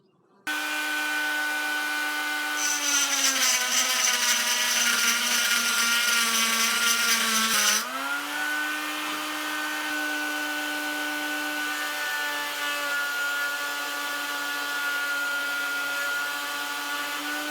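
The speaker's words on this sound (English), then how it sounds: "I'm actually going to be carving out the underside, and then I'll use the carbide burr to connect the dots." Rotary tool fitted with a carbide burr carving the underside of a sword guard, a steady high whine running throughout, loud and alone, with a brief stretch of harsher grinding as the burr bites and the motor pitch dips slightly.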